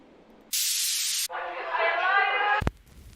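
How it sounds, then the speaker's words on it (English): Vinyl crackle effect auditioned in a New Jersey club type beat: a loud bright hiss burst, then a dense crackling noise layer for about a second, ending in a sharp click, with no talking. "That's vinyl."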